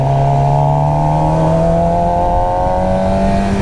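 A 2016 Suzuki GSX-R 750 motorcycle engine with a stock exhaust idles and revs, its pitch rising gradually in a smooth, loud, close drone.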